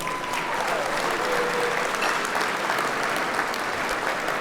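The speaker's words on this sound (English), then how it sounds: "Let's give all of our underwriters and sponsors a round of applause" A dinner audience at the William Oliver Baker Award event gives sustained, even applause for underwriters and sponsors, a steady roomful of clapping throughout.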